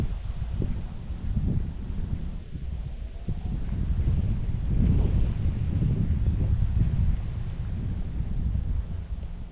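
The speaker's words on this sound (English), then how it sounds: "The wind's going to pick up and blow my stuff everywhere." Wind gusts buffet the microphone beside a river during a fishing outing, a steady low rumbling roar with faint rustling and no talk.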